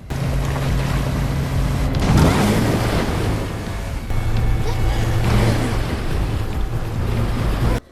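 A jet ski engine runs steadily out at sea, a loud continuous hum with splashing water and wave noise, a brief surge near the middle, and a voice faintly heard beneath.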